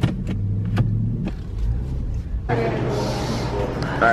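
A car that had been overheating drives along with a steady low road and engine rumble that grows busier partway through, while people talk inside the cabin.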